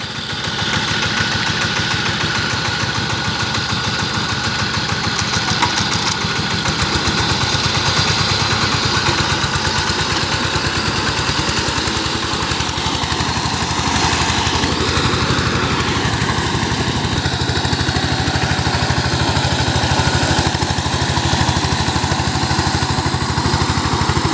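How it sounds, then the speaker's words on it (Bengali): A 16 hp diesel power tiller with an 18-blade rotor churns a flooded, muddy paddy field, its engine a loud, steady, close chugging drone that holds without a break. "সাইপিং 16 ঘোড়া ডিজেল ইঞ্জিন, সাইপিং 18 ব্লেডের পাওয়ার টিলার"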